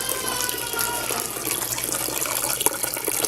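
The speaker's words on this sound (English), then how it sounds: "doing the second runnings of my batch sparge" Wort drains from a tilted mash tun during the second runnings of a homebrew all-grain batch sparge, a steady, close splashing and gushing of liquid that stays constant throughout with no voices.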